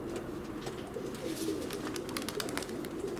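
Mozdok and Leninakan pigeons coo from close overhead outdoors, soft repeated low coos over a busy rustling background with no one talking.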